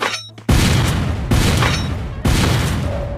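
Grenade explosions in a video game: three heavy, close booms in quick succession, each bursting loudly and then rumbling away before the next hit.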